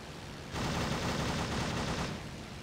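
Aircraft machine gun fire in the Rise of Flight game: one sustained burst of about a second and a half of rapid, dense gunfire, loud and close, rising out of steady engine drone and then fading back into it.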